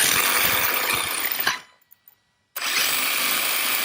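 Hosim X25 1/8-scale RC truck's electric motor whining loud and steady as the wheels spin at full power, cutting off abruptly for about a second before roaring back up to full speed.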